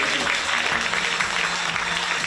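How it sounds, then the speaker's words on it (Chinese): Crowd applauding as the Fubon Braves basketball team is introduced on stage: a loud, dense, continuous roar of clapping filling the whole stretch, with a low murmur of voices and hall noise underneath. "掌声在哪里？"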